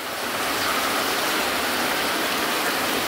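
Heavy rain from a thunderstorm pours down on a rural smallholding in a loud, steady, unbroken hiss of falling water that carries on throughout without any talking.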